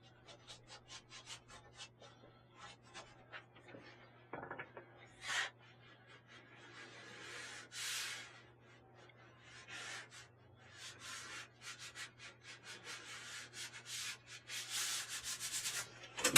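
Chalk rubs and scratches on paper while a sunset drawing is worked, with soft intermittent strokes that grow busier and brighter toward the end over a faint steady hum.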